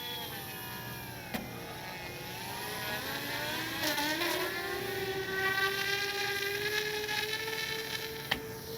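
Twin electric motors of an RC model PBY Catalina seaplane on a lake, a rising whine that holds steady as throttle shifts between engines, heard at moderate distance with a couple of sharp clicks.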